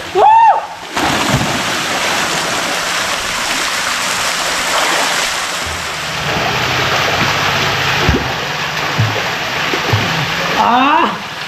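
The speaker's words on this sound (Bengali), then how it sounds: "এবার তো সুইমিং পুলে নেমে যেতে ইচ্ছা করছে। চলো নেমে যাই।" Someone drops into a resort swimming pool at Mandarmani, and a loud splash is followed by continuous sloshing and rushing water. Voices are heard briefly at the start and end.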